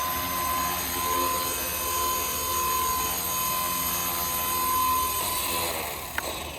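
A Blade 230S RC helicopter in flight gives a steady, loud rotor drone and high motor whine with a buzzing vibration, likely from the canopy, holding constant throughout.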